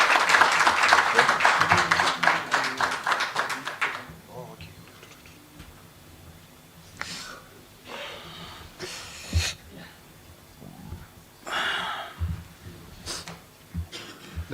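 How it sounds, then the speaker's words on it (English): Brief burst of audience clapping at a union launch event, loud and dense for about four seconds before fading into scattered room noise, shuffling and murmured talk. "Can we give him a round of applause?"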